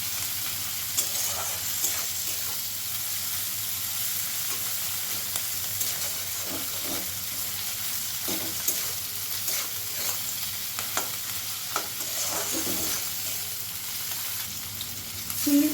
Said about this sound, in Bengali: চিংড়ি মাছগুলো একটু রং ধরা পর্যন্ত নাড়াচাড়া করব।